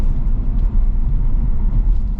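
A BMW 430i convertible with a ZF automatic gearbox accelerates, giving a steady, close, low engine and road rumble that holds at an even level throughout, with no talk over it.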